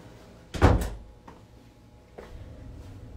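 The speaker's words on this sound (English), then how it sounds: "Let me close that door." A boiler-room door closes near at hand with one solid thump, followed by a couple of fainter knocks and a low hum.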